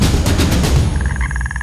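Frogs croaking in a dense, loud chorus in rural Bukidnon, with rapid repeated calls layered over a constant noisy background and a pulsing, regular croak train emerging midway.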